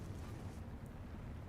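A flame grenade bursts in The Division, a broad roaring, rumbling blast that fills the whole moment with a steady, loud whoosh of fire and low-end rumble.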